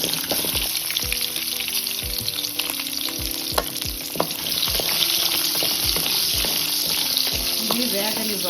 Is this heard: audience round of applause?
no